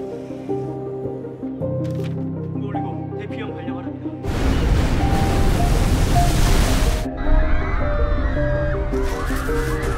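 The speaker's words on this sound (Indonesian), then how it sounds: "terjadi gempa besar dan terlihat gelombang tsunami yang ternyata jaraknya tidak jauh, datang dari arah Jepang" In the disaster film Tidal Wave, a tsunami surge crashes in as a loud, broad roar of rushing water for about three seconds, framed by dramatic music before and after.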